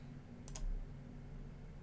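A single soft double click of a computer mouse, faint and close, over a low steady hum.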